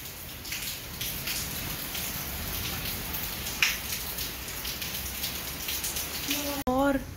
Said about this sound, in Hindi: नॉन स्टॉप 11 बजे से लेके अभी तक लगातार बारिश हो रही है